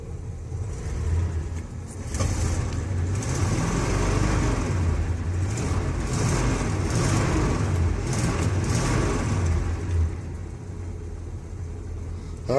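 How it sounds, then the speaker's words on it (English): A 1977 Chevrolet Suburban with a 454 V8 idles after a cold start, a steady low rumbling idle with slight rises and dips in engine speed, close and continuous with no talk. "that's my cold start on my 1977 Suburban with a 454"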